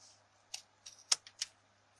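Five or six crisp, brief snips spaced unevenly over two seconds, close and fairly quiet, as scissors cut straight across wreath-bow ribbon in a quiet room.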